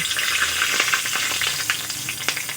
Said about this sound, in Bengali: ফোড়নে দিয়ে দেব দুটো তেজপাতা